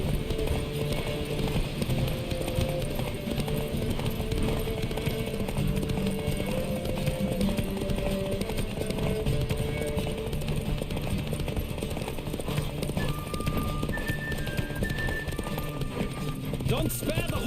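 Horse hooves pound in a steady galloping clip-clop during a horse race in The Witcher 3, running continuously under background music and sound effects while people talk over the ride.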